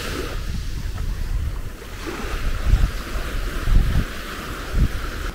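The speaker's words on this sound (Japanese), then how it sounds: "しかも結構波もきついんで泳ぐの危ないと思うんですよ" Strong ocean waves break along the Okinawa coast, a broad rushing surf with several heavier surges rolling in, mixed with wind noise on the microphone.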